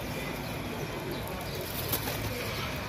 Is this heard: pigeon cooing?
yes